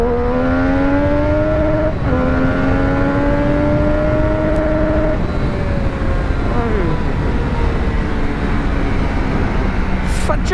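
A Triumph Street Triple RS motorcycle is ridden on an open road, its engine droning steadily with rising and falling pitch as it shifts through gears, under constant wind rush from riding.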